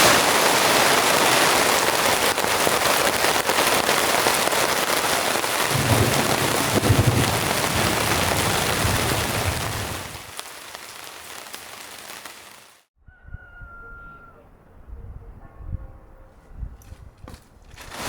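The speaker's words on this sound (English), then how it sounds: "oh man, that is cold rain" Cold, heavy rain pours down steadily during a thunderstorm on a mountain, a dense roaring hiss that fades away, leaving faint drips and light movement.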